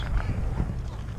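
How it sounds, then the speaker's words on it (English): Horse hooves clip-clopping on a street in Williamsburg, a few soft, close steps in quick succession under low background murmur and faint voices. "Look at that beautiful horses."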